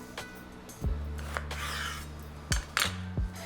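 A knife cuts russet potatoes into thick wedges for fries on a board, making several distinct thunks and scraping strokes against the surface with no talking.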